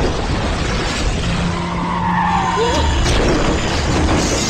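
Cars skidding in a film car chase, with a dense continuous roar of engines and tire squeal running loud and steady throughout, a rising squeal sweeping through the middle.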